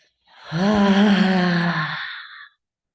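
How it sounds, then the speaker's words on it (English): A single deep, voiced exhale during a group breathing exercise: a drawn-out sigh of about two seconds that swells quickly and then fades before silence. "And let's exhale."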